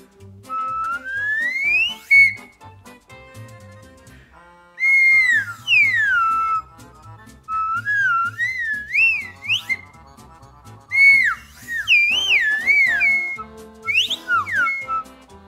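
A slide whistle plays repeated swooping phrases, its pitch gliding up and down over a steady musical backing, with brief pauses between bursts.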